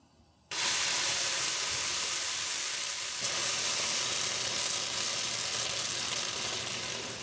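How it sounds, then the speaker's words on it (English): Boiling water hits a rusted cast-iron skillet and erupts into a loud, sustained sizzling hiss with steam that starts suddenly after a brief quiet moment and continues at full strength. "now we convert this red rust to black rust with boiling water"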